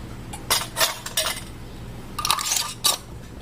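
A metal lid is set onto a hot glass canning jar of Creole sauce, giving a few light clinks and taps spread across a few seconds in a quiet kitchen.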